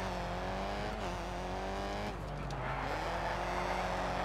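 Rally car in the Colin McRae Dirt 2 video game, engine droning loud and steady as revs drop while slowing and the handbrake goes on, with a brief tire skid before it pulls away again.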